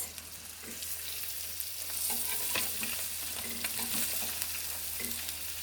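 Turkish sucuk sausage fries in a pan with a soft, continuous sizzle and crackle, steady and close, with occasional light scraping as it is moved around.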